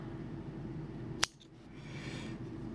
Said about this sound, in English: Let's get some sharper scissors, I think.